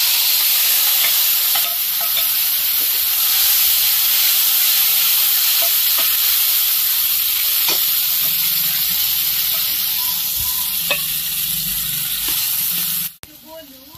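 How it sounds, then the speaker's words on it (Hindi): Spice masala roasting and being stirred in a pan during cooking of chephua fish, a steady close sizzle and hiss with scattered soft scrapes of the spoon, running continuously until it cuts off near the end. "चलिए मसाला हम भूंज लेते हैं बढ़िया से डाल के"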